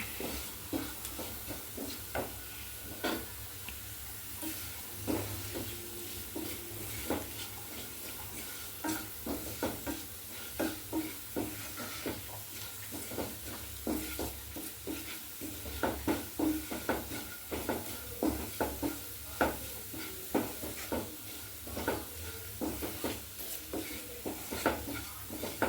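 Greens stir-fried in a pan with turmeric and chili powder: soft continuous sizzle with frequent spoon scrapes and stirring clicks in a steady irregular rhythm, moderately quiet and close, no voices.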